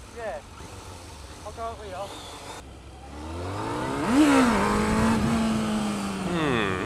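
A motorcycle revs at half throttle for a first wheelie attempt, engine note climbing and sweeping up loudly near the rider, with short speech at the start.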